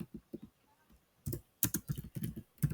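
Bursts of keystrokes on a computer keyboard while code is written, a few quick clicks, a short pause, then denser rapid typing close by.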